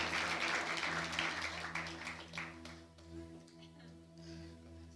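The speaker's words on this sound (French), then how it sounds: "On peut les applaudir au moins." Audience applauding a married couple at a comedy show, clapping that is strongest at the start and fades out after a few seconds, under a steady musical hum.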